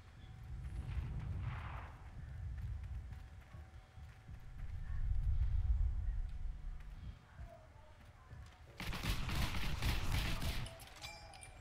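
Automatic weapon gunfire from the online shooter Heroes & Generals, heard as a loud sustained burst near the end after quieter stretches of in-game noise.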